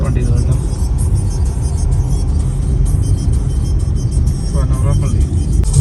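Cars and other road traffic crossing the Vadakkanchery overpass above a railway line, a steady loud rumble and whir of passing engines filling the whole stretch, with speech mixed in.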